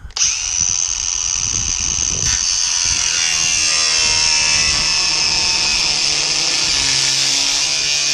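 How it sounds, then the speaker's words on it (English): A power drill with a spot weld drill bit cuts out spot welds on a rusty Datsun 260Z hatch, whining steadily and loud up close for the whole stretch, with no speech. "I've drilled out the spot welds with my spot weld drill bit all the way along"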